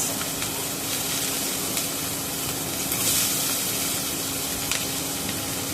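Asafoetida crackles and sizzles in hot oil for a dal kachori filling, a loud, dense, unbroken frying hiss close by, with no voices.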